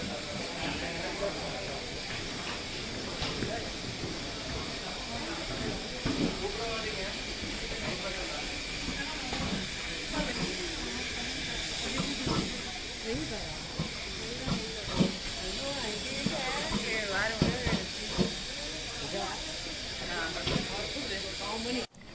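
Nilgiri Mountain Railway steam locomotive 7399 at the station before departure, releasing a long, continuous loud hiss of steam with clanks and station bustle and voices mixed in.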